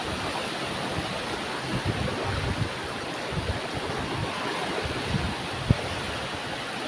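Ocean surf on a Thai beach at Laem Mae Phim, a steady soft broadband wash of breaking waves heard from a distance, continuous and fairly faint with no voices.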